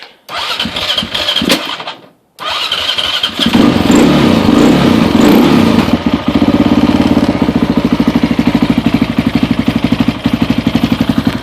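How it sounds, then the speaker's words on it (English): A small gas-fuelled motorbike is started after a few cranking attempts and a short pause, then catches and settles into a steady, fairly quiet, close putter that idles evenly. "So I will turn the gas on, little lever down here, and give her a start"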